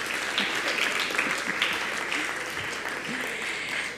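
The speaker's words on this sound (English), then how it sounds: "let's give them another round of applause" Applause from the audience at a primary school graduation ceremony, a continuous, somewhat distant clapping wash with faint voices and cheers mixed in.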